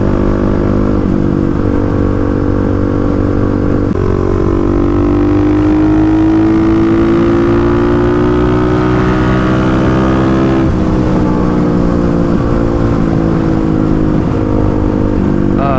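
A Kawasaki KLX351 motorcycle in sixth gear rolling on the throttle, a loud, close, continuous engine drone whose pitch climbs steadily, dips briefly at a shift in rhythm, then climbs again.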